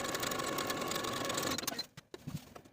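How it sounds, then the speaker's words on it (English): A sewing machine runs a steady, fast whirring stitch along the side seams of a crop top's skirt pieces at a 3/8 inch seam allowance, then stops abruptly, leaving a few soft handling sounds. "I'll sew the side seams once more with a 3/8 inch seam allowance."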